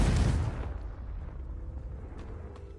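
A Confringo fire spell bursts in Hogwarts Legacy, a loud booming explosion up front that rolls off into a fading rumble with faint crackles trailing behind.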